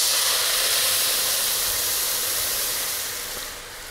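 Steady, loud hiss from orange juice bubbling and reducing in a hot pan to glaze seared scallops, holding even and then easing off slightly toward the end.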